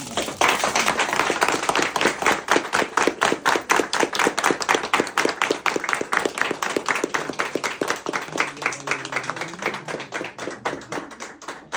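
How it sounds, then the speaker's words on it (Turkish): Guests at a Turkish engagement and promise ceremony clap steadily and densely for about twelve seconds, a loud, close, continuous patter of many hands, with a faint low hum near the end. "Alkış."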